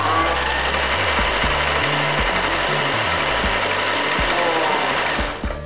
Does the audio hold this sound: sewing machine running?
yes